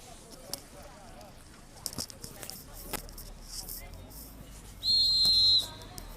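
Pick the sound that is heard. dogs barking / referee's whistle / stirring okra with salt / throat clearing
referee's whistle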